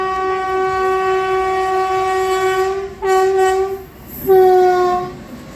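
A train horn blares in long sustained blasts, cutting out and sounding again twice, over the rumble of a passing Indian Railways freight train at a level crossing.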